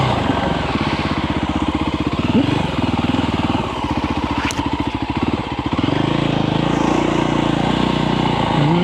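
Voge 300 Rally motorcycle engine running loudly and close, a steady throbbing pulse that shifts to a smoother higher drone near the end, with no talk over it.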